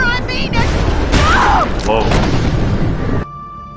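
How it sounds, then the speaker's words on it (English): A gunshot in The Walking Dead video game, a single loud boom mixed in with game sound and speech, then a sudden drop to quiet near the end. "Oh, she shot me."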